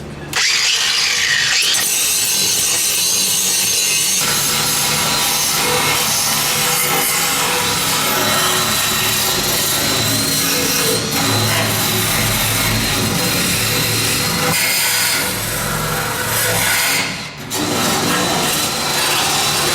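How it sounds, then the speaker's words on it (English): Grinding welds on the trunk of a 1972 Pontiac Le Mans, a loud, continuous abrasive whine and rasp that runs close and nearly unbroken for about twenty seconds, with only a brief dip near the end. "we're just welding it and gonna grind it"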